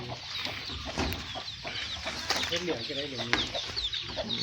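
Chickens cluck and a rooster-like call rises amid farmyard noise, with voices talking in the background.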